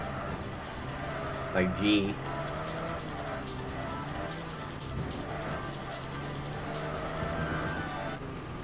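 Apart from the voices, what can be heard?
racing cars driving in TXR Zero video game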